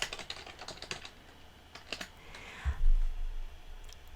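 Keystrokes on a computer keyboard come in a quick, light burst of clicks, then a couple of isolated taps, followed by a soft low thump and rustle as typing stops.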